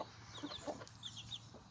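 A hen clucks in a few short bursts amid other chicken sounds, moderately close in a farmyard where a second hen and a turkey hen keep chicks, with no talk over it.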